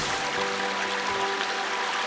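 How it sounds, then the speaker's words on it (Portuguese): A stream flowing steadily outdoors, a continuous broad rushing wash of water that stays even throughout, heard alone without talk. "Eu tô ouvindo barulho de água"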